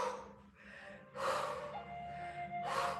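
A deep breath in taken during a guided balance exercise class, heard as a few audible breaths and gasps with no talk, moderately close.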